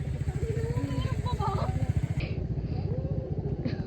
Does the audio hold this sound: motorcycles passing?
yes